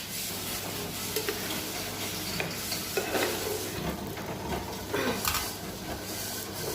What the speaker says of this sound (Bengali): গরম জল দিচ্ছি আর কেমন টকবক করে ফুটে উঠেছে।